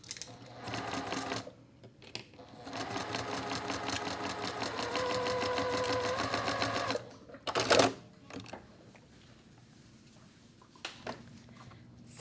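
Domestic sewing machine stitching a quilt block seam, a fast steady whirring run of several seconds after a short burst, then a brief clatter and quiet handling.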